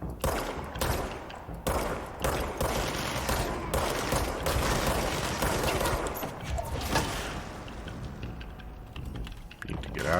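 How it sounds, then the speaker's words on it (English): Enemy rockets firing and exploding in Control, a dense, continuous rattle of rapid blasts and impacts, loud and close throughout, with a voice talking faintly beneath. "These rockets have some range."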